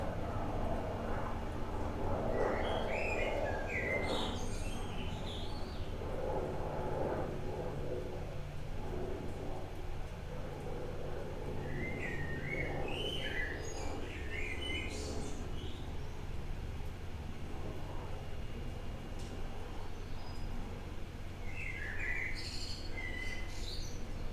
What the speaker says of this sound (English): You don't realise how loud them birds are until you've got your headphones and your microphone plugged in